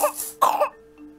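Two harsh coughs in quick succession, close and fairly loud, with a faint vocal tail after, heard amid VR game play.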